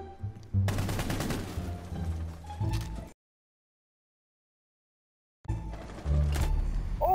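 Rapid gunfire bursts in Rainbow Six Siege, a shotgun-style M1014 among them, loud and dense for three seconds, then sudden silence, then another heavy volley near the end.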